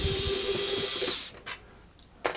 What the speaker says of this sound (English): we better open up these top couple of screws and see if we can get inside